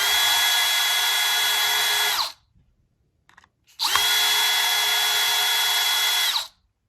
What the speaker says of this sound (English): I get them started like you see here, and then I run them in with my cordless drill